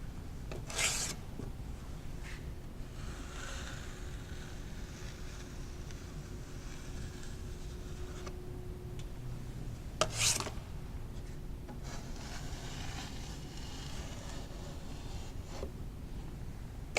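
A drywall knife scrapes and smooths joint compound over paper tape, with long rasping strokes, a couple of sharp knocks and scrapes near the start and middle, close and steady with no talk.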